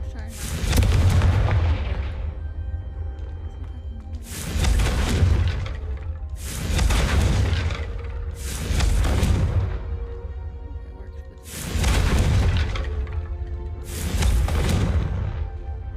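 Six heavy booming blasts from the Confringo fire spell in the Hogwarts Legacy video game, each a loud bursting explosion that decays slowly, spaced about two seconds apart.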